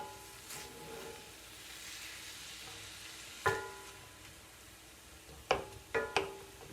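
Lean ground beef sizzling softly in a pan at a steady low hiss, with a few sharp clanks and scrapes of a utensil stirring near the end.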